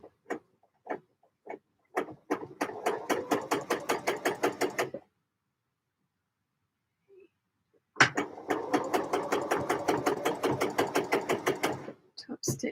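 A sewing machine top stitching knit fabric runs in two rhythmic bursts of rapid, evenly spaced needle strokes, a few isolated strokes before the first, with a silent pause between them.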